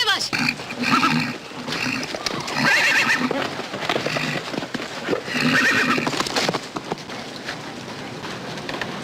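A horse at an army post gives loud, repeated whinnies with hooves clip-clopping beneath them. Steady background noise runs throughout, in an old film scene.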